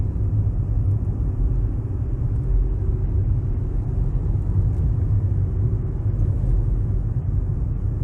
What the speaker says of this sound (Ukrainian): Далі додаю газ і третя передача.